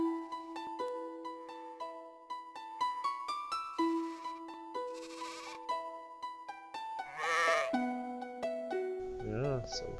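Sheep bleat in the Atlantis II video game, a wavering cry near the end over a bright melodic game soundtrack of plucked tones and chimes.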